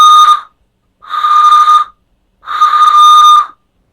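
A small hand-turned wooden whistle blown in three loud, clear, shrill blasts, each about a second long, separated by short silences.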